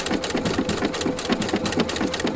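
A Husqvarna Viking sewing machine stitches with a circular attachment, a steady fast mechanical whirring with an even repeating rhythm, close and continuous.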